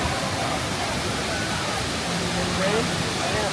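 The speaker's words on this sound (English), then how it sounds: "We're at the Kravica Lake and Waterfall." Kravica waterfall in Herzegovina pours in a steady, loud rushing roar of falling water that fills the whole clip without letup.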